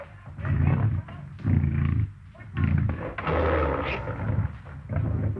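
A lion roars in repeated low, rumbling bursts in a 1930s jungle film, each surge loud and close with short gaps between, under a constant low background.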